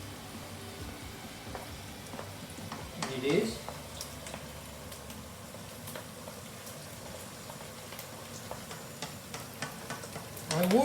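Chicken karahi fries in a pan with a steady, low sizzle that runs throughout, while a person talks over it.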